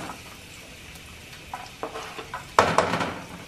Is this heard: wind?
no